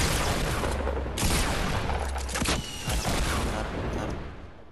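Gunfire in the Fortnite video game, a dense loud barrage of overlapping shots with a few sharper blasts standing out, easing slightly toward the end.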